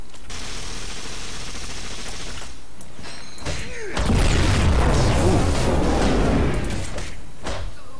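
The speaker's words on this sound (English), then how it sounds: "Let's see if I can throw a couple of grenades in here and see what happens." Grenades go off among thugs in the Marvel Heroes video game, a heavy booming burst swelling out of steady game noise midway through, rumbling and crackling for a few seconds before easing back down.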